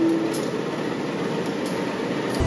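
A Pertamina tanker freight train rolls past on the railway with a continuous, loud rumble and clatter of wagons close by.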